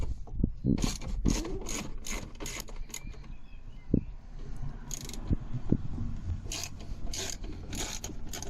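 T25 Torx screws being undone on a Smart car's outer door panel, a run of close scraping, rasping tool strokes in uneven bursts with occasional sharp clicks, no voices.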